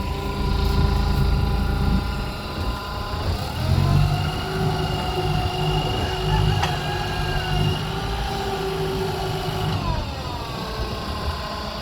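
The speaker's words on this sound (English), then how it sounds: "I'm using a forklift" Forklift engine running steadily while hoisting a sheep carcass by its front feet for inverted skinning, a continuous mid-pitched motor drone that shifts in tone as the load rises, no talk over it.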